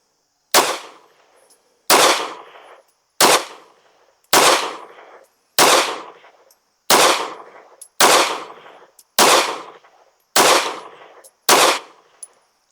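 Ten sharp, loud gunshots from an Anderson Kiger-9C pistol firing handloaded 9mm rounds at an outdoor target, evenly spaced about a second apart, each with a short ringing decay.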